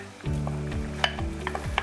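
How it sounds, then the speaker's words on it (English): Chopped onion beginning to sauté in hot fat in a pan, a soft sizzle with a few light clicks of a utensil, heard close over a steady humming background tone. "We have about a half an onion that we chopped up that we're just going to let start to saute"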